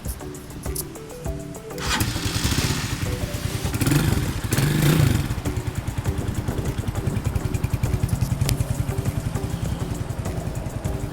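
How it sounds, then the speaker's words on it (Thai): A 2017 GPX Legend 200 motorcycle in original yellow starts up and then runs at a steady, close idle, with a brief blip of revs early on and a smooth, even engine beat throughout, no talking. "รถเครื่องดีเครื่องเงียบเลยนะครับ"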